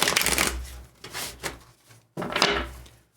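Tarot cards being shuffled by hand, close and crisp, in three quick riffling bursts with short pauses between them.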